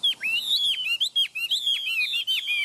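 A tame caged bird sings while held in the hand, a close, clear run of quick chirps and sweeping whistled notes repeated in rapid bursts with short pauses between.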